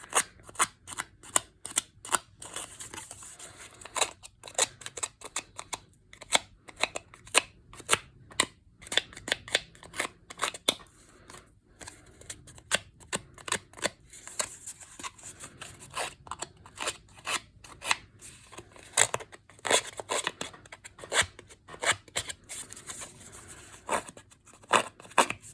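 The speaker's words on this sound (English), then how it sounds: "I'm gonna rough up the edges on this piece" A distressing tool roughing up the edges of watercolor paper for a grungy Christmas card, giving dry, scratchy scraping strokes in a rapid, irregular series that carries on steadily up close, with no voice.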